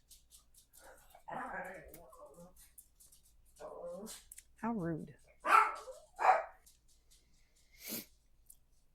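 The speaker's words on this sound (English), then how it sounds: "So I had big, no barking." A dog gives a few short barks and yips with whimpering noises between them, close by, and a person speaks briefly.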